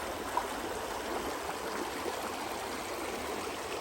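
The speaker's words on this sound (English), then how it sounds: "The creek is flowing very good." A strongly flowing creek rushes steadily and close by, a dense, even wash of water noise that holds without pause and without any voices.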